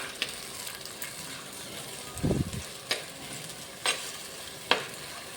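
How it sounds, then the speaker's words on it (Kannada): Onion, green chilli and tomato fry together in a pan with a soft continuous sizzle, broken by a few sharp spoon clicks and one brief louder scraping stir near the middle. "ಈಗ ಹಸಿಮೆಣಸಿನಕಾಯಿ, ನೆಕ್ಸ್ಟ್ ಟೊಮೆಟೊ, ಈ ಮೂರನ್ನು ಒಂದು 5 ನಿಮಿಷ ಫ್ರೈ ಮಾಡಬೇಕು"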